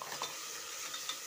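Spices being stirred in a pressure cooker while frying in hot oil, with a quiet steady scraping and soft sizzle, faint and continuous, no voices.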